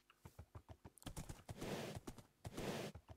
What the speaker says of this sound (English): Oh, I see another horse.